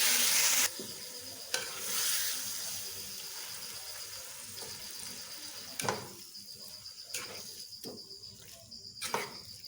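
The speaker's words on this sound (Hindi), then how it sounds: "अभी मैं इसको थोड़ा सा फ्राई करूँगी" Marinated keema frying with browned onions in a pan, a steady sizzle broken by several sharp stirring scrapes and bursts, no voices.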